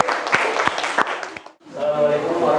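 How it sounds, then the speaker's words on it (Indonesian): Classroom applause for a student group after their presentation in an Islamic education lesson, with a brief burst of clapping from a small crowd that fades out before a voice begins speaking. "beri aplaus untuk kelompok 2"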